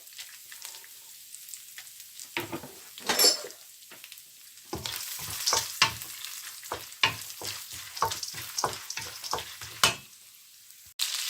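Chana dal, cashews and peanuts sizzle and crackle in a hot pan for tomato rice, with a steady frying hiss broken by a string of sharp stirring scrapes and pops, and no voices.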